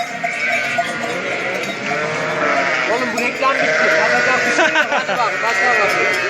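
Sheep bleat in a barn fitted with a vaccination race, several overlapping wavering calls rising and falling close by, growing busier toward the end, while someone speaks over them.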